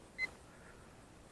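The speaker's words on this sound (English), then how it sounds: "my transmitter is still beeping at me." An Arrows Pioneer 620mm micro bush plane's RC transmitter gives a single short, faint beep, followed by quiet outdoor background.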